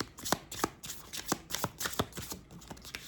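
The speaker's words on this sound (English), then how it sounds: "So let's pull one more card and then we'll clarify these cards." Cards being shuffled close by for a tarot-style card reading, a series of quick papery riffles and soft slaps in an uneven rhythm, with no voice heard.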